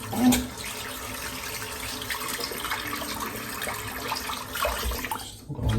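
Water pours and splashes down a bathroom sink drain, a steady close rushing flow with brief gurgles that lasts the whole few seconds, with no talk.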